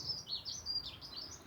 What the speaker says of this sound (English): And the birds are joining in,